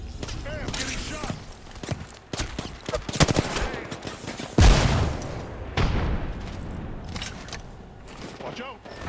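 Incoming gunfire in Apex Legends: scattered rapid shots and bursts with a heavy impact thump partway through, mixed with voices talking over the fight.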